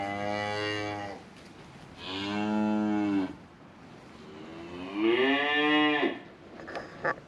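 On a farm, a cow and her calf give three long, drawn-out moos, loud and close, with short quiet gaps between them.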